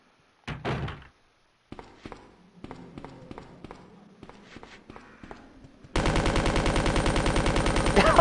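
An infinite-ammo machine gun in Resident Evil 2 fires in a loud, rapid, unbroken stream over the last couple of seconds, after a dull thud and a scatter of soft thumps and steps.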